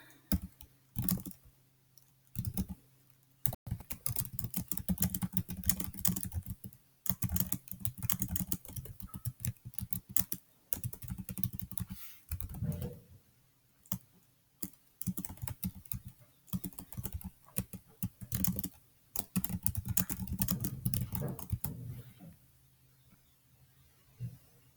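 Sustained typing on a computer keyboard while entering on-screen dialogue text in a game editor: long runs of close, rapid key clicks broken by short pauses, with no talking.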